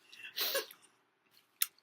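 Someone chewing crunchy Mexican food during a mukbang, a short burst of close crunching and mouth sounds followed by a brief crackle.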